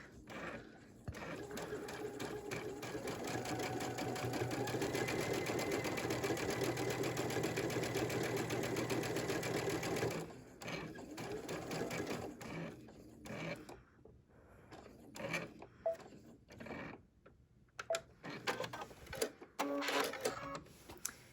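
A digital sewing machine fitted with a stitch-in-the-ditch sole on a dual feed foot runs in a steady, rapid mechanical whir for about ten seconds, then breaks into shorter bursts and clicks.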